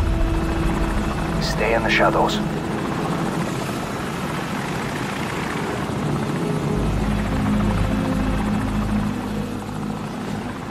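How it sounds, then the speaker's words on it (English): A video game helicopter in Call of Duty: Modern Warfare roars steadily overhead, loud and close, with a short spoken line over the rotor noise early on. "Enemy helicopter! Get down!"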